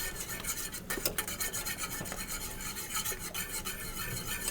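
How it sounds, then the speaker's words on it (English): A whisk scrapes and swishes through simmering stock as cornstarch is stirred in to thicken it, a close, continuous rough rubbing sound with faint metallic ticks against the pot, no voices. "So now I'm just going to whisk this into this simmering stock."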